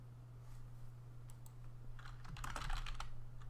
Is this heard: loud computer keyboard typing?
yes